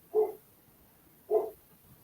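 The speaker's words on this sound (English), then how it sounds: "Can you hear dipshit barking?" A dog gives two short barks about a second apart, moderately distant and fairly quiet, with only faint room noise between them.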